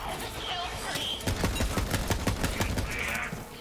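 A rapid stream of gunfire in the video game Borderlands 3 continues steadily throughout, with faint voices in the background.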